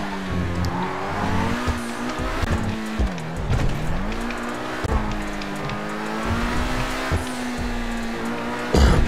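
A car driving in GTA RP, its engine droning steadily with pitch rising and falling through gear changes and brief tire squeals, close and loud with no talk.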